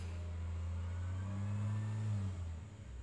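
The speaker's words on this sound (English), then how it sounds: "Thank you, bus. We know you're here." Bus driving past outside: a loud, low engine rumble that holds steady, swells slightly, then fades away, with no talking.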